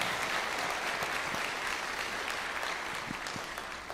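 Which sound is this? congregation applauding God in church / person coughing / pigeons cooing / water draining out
congregation applauding God in church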